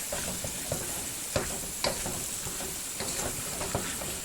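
Noodles being stirred in a hot sizzling pan on a chuck wagon, a continuous close hiss punctuated by repeated scraping and clanking utensil strokes, with no talk.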